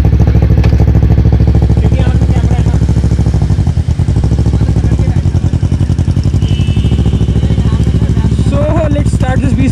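A 2020 Kawasaki Z900 with a modified Race Fit exhaust runs close up, giving a loud, deep, throbbing rumble that stays steady throughout, with a few revs and a voice speaking over it.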